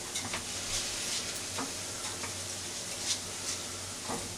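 Wine cooking off in a risotto pan: a quiet, even sizzle and bubbling hiss with a few faint ticks and stirring taps, close up but low in level, with no voices.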